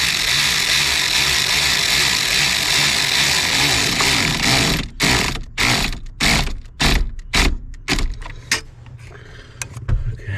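Rapid ratchet clicking as a 7 mm bolt is tightened on the ignition switch of a 2000 Ford Ranger, steady at first, then breaking into short bursts of clicks with brief pauses, close and fairly loud.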